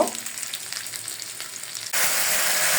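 Spices being sautéed in a pan for chicken chaap, giving a steady close sizzle that swells into a louder, brighter hiss partway through, with no talking.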